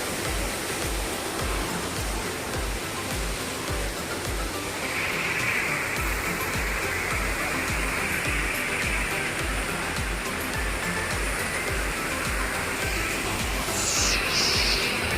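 A Keonjhar waterfall roars as a steady, dense wash of rushing water, continuous and fairly loud throughout with no voices over it.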